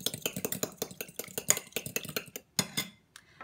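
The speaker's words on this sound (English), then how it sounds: "Next, I'm gonna go ahead and whisk my egg." An egg is whisked in a mug with rapid, rhythmic clinking strokes of metal against ceramic, close and fairly quiet, slowing to a few last taps at the end.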